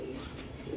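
A racing pigeon with distinctive jalsa eyes gives a short, soft, warbling coo, steady and low, over light background noise.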